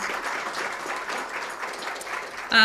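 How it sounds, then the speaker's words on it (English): Audience applause at a corporate Pride fireside chat, steady crowd clapping for the two speakers that fills the moment before a voice cuts in at the end. "let's give a round of applause for Amy and Mel"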